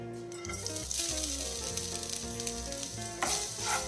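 Grated coconut fries in hot ghee in a pan, giving a steady, close crackling sizzle with stirring scrapes throughout and no talking.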